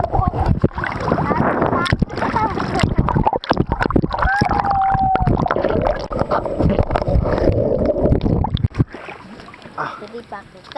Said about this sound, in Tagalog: Lakas na agos.